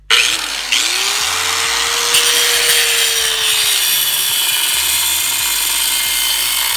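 A power-tool blade cuts through a vehicle U-joint during removal, giving a loud, close, continuous grinding whine whose motor pitch rises and sags as the blade bites, with no talk.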